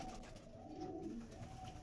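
A pair of Andhra Lambadi pigeons in a loft, a faint low cooing phrase heard alone, soft and close.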